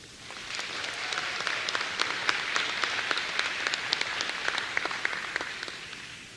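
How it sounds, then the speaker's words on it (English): A graduation commencement audience applauds steadily, a dense patter of many hands swelling and holding for several seconds, then tapering slightly near the end, with no talk over it. "Graduates, please give those folks a round of applause and thanks for their support."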